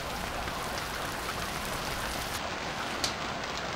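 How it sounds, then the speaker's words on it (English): Steady, dense rain hiss in the video game Stranded Deep, falling continuously, fairly soft and even, with one small tap near the end. "Oh, shoot, it's raining."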